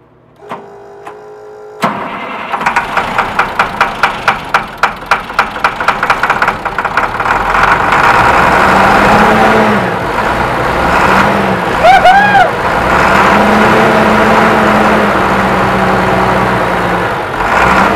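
A 1999 International 4700 truck with a DT466E diesel cranks in a fast, even rhythm, catches and settles into a loud, steady, slightly knocking idle with faint whines over it.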